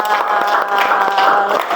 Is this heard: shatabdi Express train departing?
no